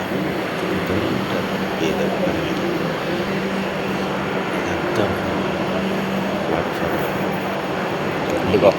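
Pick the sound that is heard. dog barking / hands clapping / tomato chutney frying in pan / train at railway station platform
train at railway station platform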